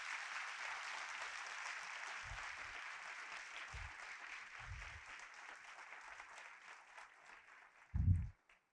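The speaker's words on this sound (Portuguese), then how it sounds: "Queria muito uma salva de palmas para todas as equipes" A round of applause for the teams at a brand launch event, steady broadband clapping from a crowd, heard at a distance and fading gradually, with a few low thumps and a brief knock near the end.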